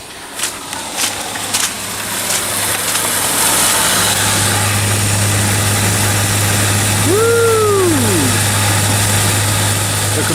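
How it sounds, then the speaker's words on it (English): An Arctic Queen WWK05CM71N air conditioner's outdoor compressor hums in a steady, loud drone with a strong low tone, preceded by a few faint knocks, and a brief swooping chirp rising and falling near the end. "The compressor seems to be working just fine."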